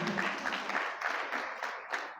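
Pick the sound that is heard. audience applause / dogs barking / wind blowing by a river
audience applause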